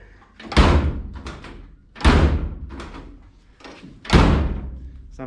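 A Mazda MX5's door is slammed shut three times at an even pace, each time a heavy, close thud with a short rattling tail.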